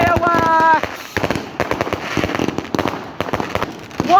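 Loud fireworks bursting on bonfire night, a rapid series of sharp bangs and crackles continuing throughout, with a person exclaiming over the opening moments.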